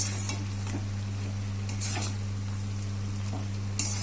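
Potatoes stirred in a frying pan while cooking a cabbage curry with a fish head, a soft steady sizzle with occasional light scrapes over a constant low electrical hum.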